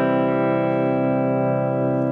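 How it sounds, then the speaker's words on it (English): Carvin CT6 electric guitar played through compression, amp simulation and reverb, a single sustained chord ringing steadily and loud throughout. "here's what the guitar really sounds like"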